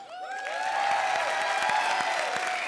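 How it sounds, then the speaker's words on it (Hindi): Studio audience applause on a Hindi TV comedy show, a dense, steady wash of many hands clapping that swells and holds at a fairly loud level, with faint music and cheering mixed in. "ताली बजाओ"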